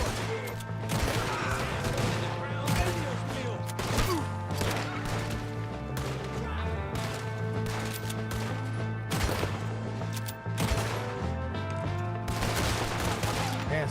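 Sustained gunfire in Red Dead Redemption 2, a dense fusillade of rifle and pistol shots popping over a droning musical score, with shouting voices woven in among the shots.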